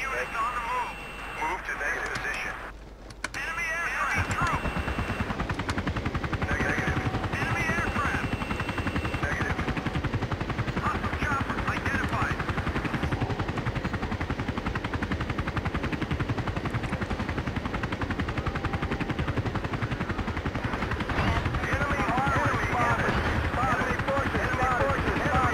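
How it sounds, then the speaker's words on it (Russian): Helicopter rotor drone with bursts of machine-gun fire in Battlefield 2, a steady dense roar throughout with people talking over it. "вон появился уже вертолет"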